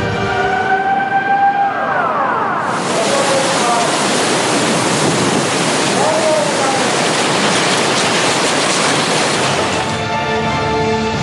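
Tsunami waves flood the Japanese coast in a loud, sustained broadband roar of rushing water, cutting in after a few seconds of softer tonal sounds and dropping away near the end.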